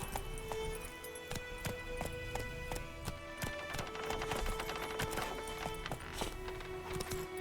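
Steady clip-clop of horse hooves at a quick trotting rhythm in the video game The Witcher 3, continuous throughout and mixed with a faint background hum.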